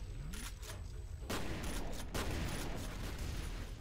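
Shotgun blasts in the first-person shooter F.E.A.R., loud broadband bursts near 1.3 s and 2.1 s over a dense, busy game soundscape of ongoing firefight noise.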